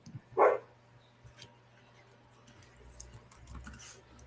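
A dog gives a single short, sharp bark indoors, followed by faint low sounds and quiet background noise.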